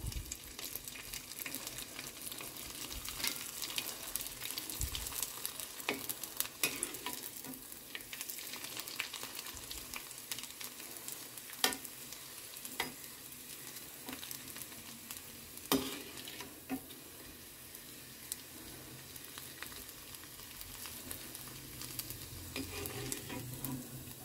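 Vadiyalu, sun-dried lentil fritters, fry in hot oil in a home kitchen, giving a quiet, continuous bubbling sizzle with scattered sharp pops and stirring clicks throughout.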